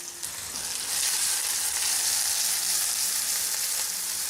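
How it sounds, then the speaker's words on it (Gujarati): Chopped medium-sized onion hits hot oil with browned garlic in a kadai, giving a bright, loud, steady sizzle that swells within the first second and continues evenly without talk. "મીડિયમ સાઇઝની ડુંગળી સમારેલી છે એ પણ કડાઈમાં ઉમેરી દેશું"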